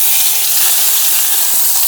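Moong dal frying in a teaspoon of ghee makes a loud, dense, continuous sizzle and hiss, heard close up and alone with no voices.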